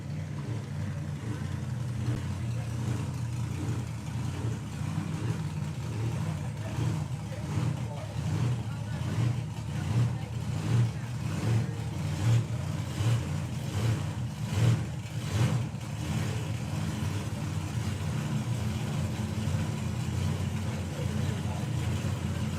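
Supercharged Outlaw drag racing cars at the Mopar Euro Nationals 2025, a sustained low engine roar rising and pulsing over about twenty seconds, with a commentator talking over it.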